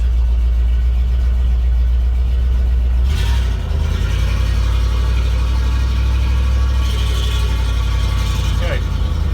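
Car engine pulling away in first gear, a steady low drone that rises briefly as the clutch bites and the revs build, loud and close throughout from inside the vehicle.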